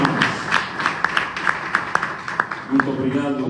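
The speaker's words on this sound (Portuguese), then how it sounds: "As palmas, por favor." An audience at a church youth ecumenical forum claps in scattered, irregular bursts of applause, with a voice speaking over the clapping near the end.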